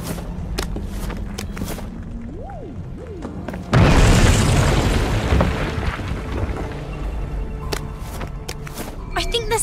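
A bomb goes off in the video game We Happy Few, a sudden loud boom that then rumbles and decays over several seconds, with game effects and a voice heard before it.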